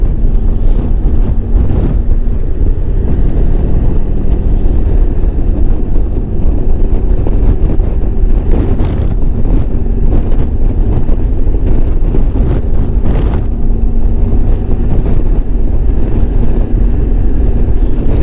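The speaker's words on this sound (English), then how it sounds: "It's such a nice time to ride your bike, but not today. It's windy." Loud, constant roaring wind buffets the microphone while riding a 1994 Honda ST1100 Pan European motorcycle, with a low engine rumble underneath and gusty swells throughout.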